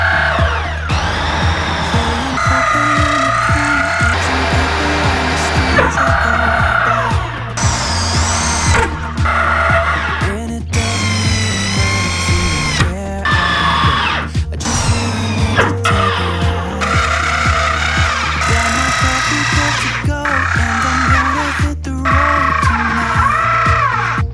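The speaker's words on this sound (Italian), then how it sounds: "useremo il trapano con il cavo elettrico, almeno non vada a stressare troppo l'avvitatore" Corded electric drill boring holes through an 18 mm wooden board while building a camping box for a Fiat Doblò mini camper. A loud, continuous motor whine fills the clip, its pitch rising and falling as the bit bites into the wood.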